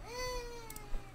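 A cat gives a single clear, drawn-out meow close by, falling in pitch, followed by a few faint soft clicks and rustles indoors.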